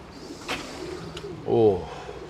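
Pigeons coo in a pigeon loft, a soft low throaty call rising near the end above faint background rustling, with people talking nearby.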